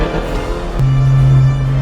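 A Ferrari 458 Speciale with a 4.5-liter V8, right-hand drive, growls loudly in a sustained, steady note that starts abruptly partway through and holds near and strong to the end.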